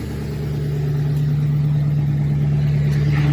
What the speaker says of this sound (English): Let me start my truck and see what happens